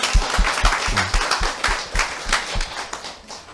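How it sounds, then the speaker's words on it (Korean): A seminar audience claps on cue, a fairly near and loud patter of hands with several distinct strong claps early on, settling into looser, uneven applause. "박수!"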